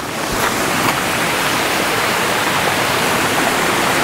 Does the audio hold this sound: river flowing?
yes